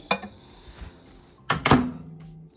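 A bowl covered with a plate is set inside a microwave oven, a light clink near the start followed by a couple of louder clattering thunks of dish and door, close and distinct.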